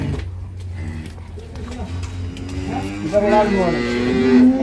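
A dairy cow on a farm in Gazipur gives a long, loud, rising moo in the second half, near and strong, after quieter stretches of background with faint talk.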